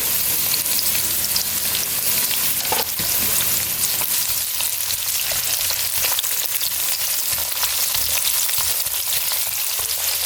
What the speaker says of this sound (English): Go ahead and let our onions saute for a couple minutes